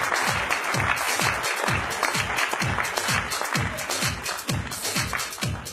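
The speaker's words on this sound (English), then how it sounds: "Loud clapping will improve your heartbeat and health in general." Loud applause at a Bombay Industries Association honoring event is close and strong, with a regular pulsing beat of heavy low thumps running under the clapping for the whole stretch.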